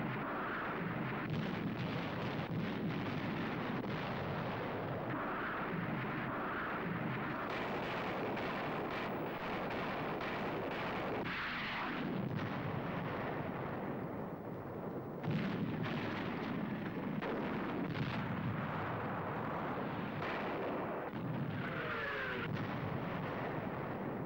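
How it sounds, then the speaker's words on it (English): Navy rockets firing and exploding in wartime combat footage, a dense continuous roar of blasts and rumbling detonations, loud and sustained throughout with no talk. "Navy rockets."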